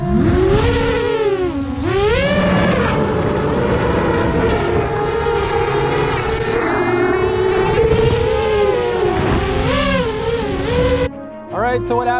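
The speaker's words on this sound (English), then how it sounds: "This is the FMS A10 version 1 twin 70mm 6S big beautiful plane." Twin 70mm electric ducted fans whine on an FMS A10 RC jet plane running on 6S power, loud and continuous with rising and falling pitch sweeps as it flies past, ending abruptly. Speech can be heard in the clip.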